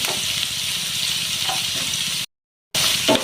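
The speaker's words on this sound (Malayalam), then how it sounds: "നല്ലപോലെ ഒന്ന് വഴറ്റിയെടുക്കാം" Chopped onion and bitter gourd sauté in a pan with a steady, close broadband sizzle and faint stirring scrapes. The sizzle stops abruptly for about half a second, then resumes with a brief clatter near the end.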